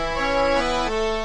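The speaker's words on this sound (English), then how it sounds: "Of an accordion. Accordion." A reedy accordion tone plays a short chord-like phrase in the Dora the Explorer Click & Create PC game, bright and full, shifting pitch partway through and sustaining to the end.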